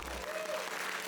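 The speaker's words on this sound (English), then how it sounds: "A round of applause for them, first of all." Audience clapping at the Gundam card game world premiere at Space Center Houston, a dense steady wash of hands filling the whole short moment with no voices standing out.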